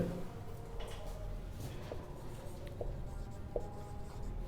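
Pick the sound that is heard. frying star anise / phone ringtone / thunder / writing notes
writing notes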